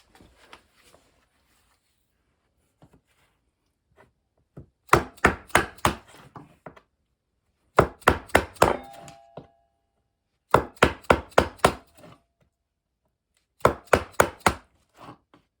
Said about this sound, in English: So I'm going to use a chisel.